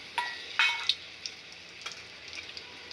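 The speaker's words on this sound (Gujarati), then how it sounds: "તેલ ગરમ થઈ ગયું છે તો એમાં નાખીશું ખડા મસાલા" Whole spices hit hot oil for a chole gravy, a few quick crackling pops at the start that settle into a faint, sparse sizzle, with no voices.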